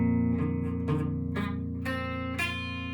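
Guitar barre chord fretted with the index finger pressed flat, its notes picked one after another about every half second, each ringing on in a quiet, sustained chord.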